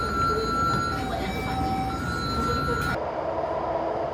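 Taipei metro subway train in motion on the yellow line early in the morning, a steady broadband rumble with tonal whine and squeal, which drops to a quieter hum partway through; no voices.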